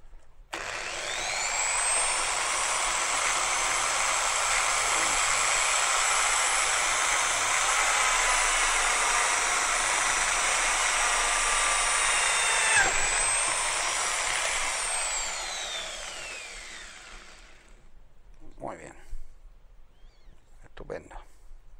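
Power drill boring a hole for the blowing tube of a homemade horn, a loud continuous high whine held for about fifteen seconds, then winding down, followed by a few short clicks and knocks.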